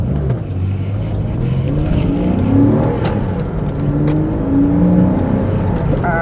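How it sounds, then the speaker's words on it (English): A Porsche Boxster S 986 engine runs while warming up before an oil change, a close, steady mechanical hum with some revving swells. "let's get the Porsche warmed up, ready for an oil change"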